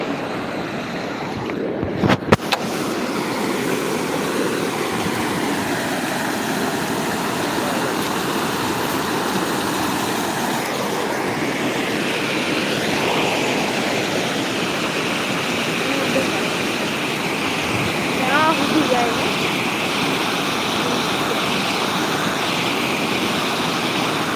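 Floodwater surges through the Devka river on a farm, a loud, steady roar of rushing water with wind buffeting the microphone, and a few sharp knocks early on.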